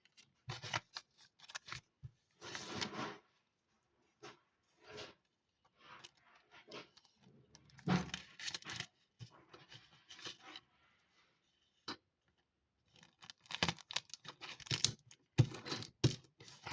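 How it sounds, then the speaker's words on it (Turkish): Adhesive tape torn from a roll and pressed along the edges of a craft piece after scissors are used, heard as scattered close rasping rips and rubbing bursts with pauses between them and no talk. "Şuralarını hemen bantlayalım."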